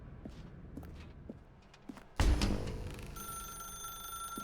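A telephone rings in The Stanley Parable video game: a sudden loud ring that bursts in after faint footsteps, then carries on as a sustained, bright electronic tone.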